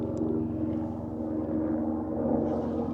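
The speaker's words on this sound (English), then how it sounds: "Hopefully that helicopter isn't too loud." A helicopter flies over a national park in Colorado, its engine drone and rotor hum holding at a steady, moderate level in the distance with no talk over it.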